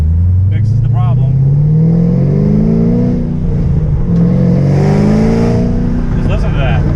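Chevrolet Camaro ZL1 V8 with a Dynamax 3-inch X-pipe in the factory exhaust, revving loudly up and down in a steady, close, continuous drone.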